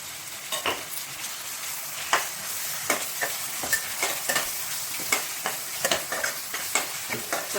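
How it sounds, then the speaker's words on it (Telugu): A spoon stirs onions with ginger paste and turmeric in a hot oiled pan for fish biryani, scraping in an irregular rhythm over a steady close sizzle of frying. "తర్వాత ఆనియన్స్ వేసుకొని కలుపుకోవాలి మంచిగా. అల్లం పేస్ట్ కూడా 1 చెంచా, పసుపు కూడా 1 చిటికెడు"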